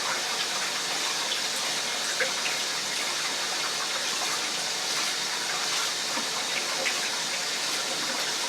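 Running tap water pours in a steady, close, even gush as seafood such as salmon, shrimp or scallops is rinsed beneath it, with no speech.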